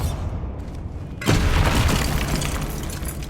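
A Bombarda explosion spell from Hogwarts Legacy erupts as a loud, sudden boom after a quieter first second, then rumbles on as a dense, sustained blast to the end.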